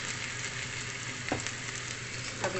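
Onion and garlic frying in a pan for pork giniling, a steady close sizzle with a couple of brief stirring scrapes.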